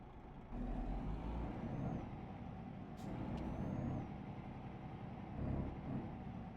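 A heavy truck in Euro Truck Simulator 2 drives along with a low, steady engine drone and a few rises in power, soft and even, joined by brief high electronic chirps, with no talking.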